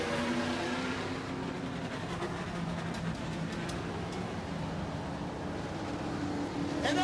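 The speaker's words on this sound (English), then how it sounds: "Now I know that they're going to warm these cars up." Modified race cars warming up their engines at a racetrack before a North State Modified Series event, a steady loud roar of several engines at once with no talk.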